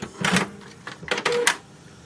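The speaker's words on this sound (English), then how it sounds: "the ink cartridge chamber is here and it will move and come to this side" Ink cartridge carriage of a Canon Pixma MG3600 printer sliding into position, a few short whirring motor bursts with mechanical clicks, close and fairly quiet, separated by brief pauses.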